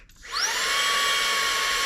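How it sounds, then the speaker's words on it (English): A Seesii 3-in-1 multifunctional cordless tool switches on in vacuum mode at its low setting, spinning up quickly into a steady, high-pitched motor whine that holds close and loud with no talking. "So the next feature is the vacuum itself."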